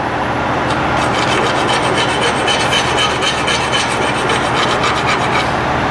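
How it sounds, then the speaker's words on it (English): Close, steady rasping of a metal file scraping a burr off the ear of a driveshaft yoke, continuous back-and-forth strokes with no talking. "You want to keep your file at a little bit of an angle because you don't want to remove material from the middle of the ear."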